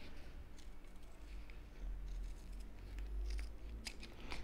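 Scissors snip fabric around a curve while sewing a double-zipper pouch, a series of short crisp cuts over a low background hum, close by.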